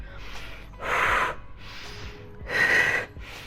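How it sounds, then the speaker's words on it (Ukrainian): Two forceful breathy exhales during a home cardio workout, close and loud, each about half a second, separated by quieter breathing. "Видих."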